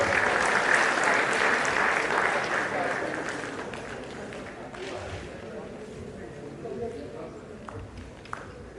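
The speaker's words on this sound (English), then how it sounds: "Audience, please keep applauding." Audience applause at an annual gymkhana award ceremony, strong at first and gradually tapering into lighter scattered clapping, with voices talking over the fading sound.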